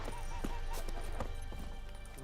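In The Witcher 3 the horse Roach gallops with quick rhythmic hoofbeats under music and game sounds, fairly faint and close.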